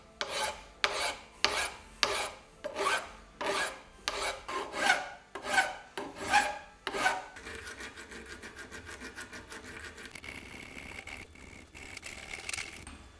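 Abrasive belt buffing rust off a metal part from a giant old vise, starting with a series of about ten rhythmic rasping strokes, then settling into a steadier, continuous grinding hiss, close and moderately loud.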